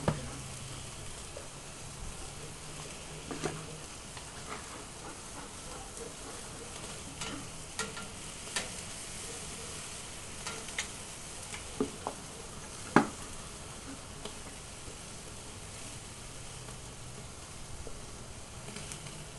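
A blackberry-chipotle marinated tri-tip sears on a grill, giving a steady, soft sizzle with faint crackles and a few sharp pops throughout, fairly quiet and without talk.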